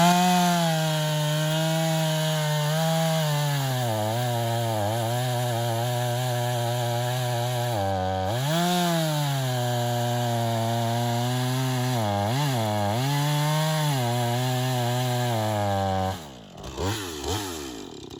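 A chainsaw with a freshly sharpened chain cuts wood. The engine drones loudly and continuously, its pitch dipping and wavering under load through the cut, then dropping away near the end.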